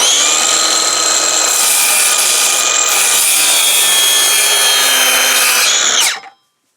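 A homemade sawmill cuts through a wooden log with a loud, continuous whining rasp that holds steady for about six seconds, then cuts off abruptly as the blade exits, close up with no talk.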